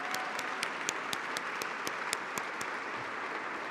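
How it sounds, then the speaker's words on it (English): A crowd at an anniversary benefit gala applauds steadily throughout, many hands clapping in a dense, even patter with no voices rising above it. "one more round of applause for Sintelle."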